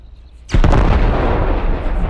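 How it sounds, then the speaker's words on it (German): A car exploding in the video game Arma 3 Altis Life, a sudden heavy blast after a quiet moment, followed by a loud rumbling roar that lingers to the end. "hier fliegen Koffer und Autos explodieren"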